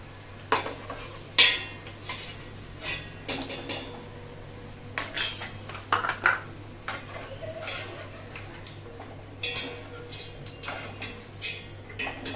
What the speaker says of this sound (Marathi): बटाटा पण मस्त तळला गेलेला आहे. काढून घेते मी डिश मध्ये.